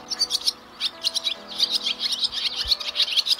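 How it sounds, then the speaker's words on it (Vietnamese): A recorded swallow call plays as a bird lure, rapid bright chirps and twitters repeating in quick bursts, fairly close and clear over a quiet background with a faint low hum. "Mọi người ai mà cần tiếng chim này"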